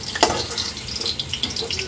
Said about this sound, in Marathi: म्हणून असे छान तेलामध्ये व्यवस्थित फ्राय करून घ्यायचे किंवा भाजून घ्यायचे